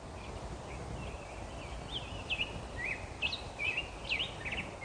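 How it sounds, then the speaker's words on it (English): Birds sing outside a yurt, several short chirps and whistled phrases scattered through the clip at moderate distance over a steady outdoor hiss, with no talking. "Standing in front of this beautiful outbuilding, listening to the birds."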